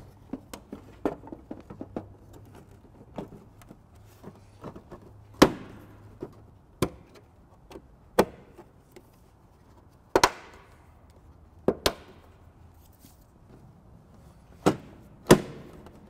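Taillights are pushed back into place on a 2013 Dodge Journey: a series of sharp knocks, taps and hollow plastic thumps at irregular intervals, some loud and close, with quieter fiddling between them and no talking.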